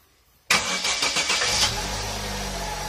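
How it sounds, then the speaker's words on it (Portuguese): A Chevrolet Celta engine cranks and catches abruptly out of silence, a short burst of starter whir rising into a loud, close idle that settles and holds steady. "Liga o carro."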